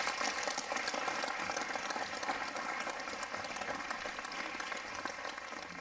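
An audience at a mayor's New Year 2024 greetings applauds the emergency and security services, a dense, steady wash of many hands clapping that carries on loudly through the whole stretch without pause.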